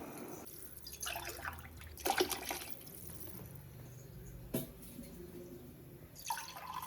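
Water poured into a pot for a one-pot sambar rice readymix, heard as faint splashing and trickling bursts at close range in a quiet kitchen, with no speech.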